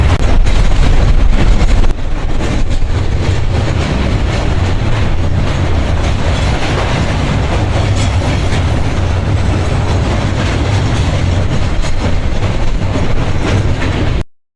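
A train rumbles across the Hardinge Bridge on the Pakshi–Khulna route, heard from on board: loud, steady wheel clatter and rolling rail noise fill the whole stretch without pause, with no voices.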